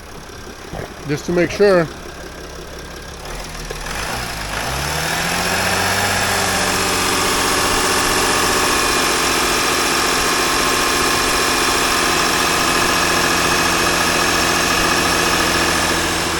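A cargo van engine settles into a steady, continuous idle after a brief rev, a low even hum running for most of the stretch, with a short spoken remark near the start before the engine noise takes over.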